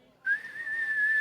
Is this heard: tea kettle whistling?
yes